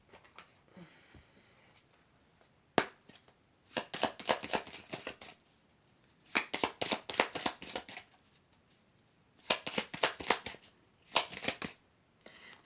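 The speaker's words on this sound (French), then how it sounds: "Je vais vous tirer une autre carte." Tarot cards being shuffled and drawn, heard as several close, crisp bursts of riffling and flicking separated by short quiet pauses, with a sharp single snap early on; no talking.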